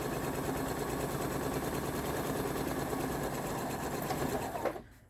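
Steady, fast close-up whir of a sewing machine running a quarter-inch seam on a kite quilt block, continuous for several seconds before stopping abruptly at the end.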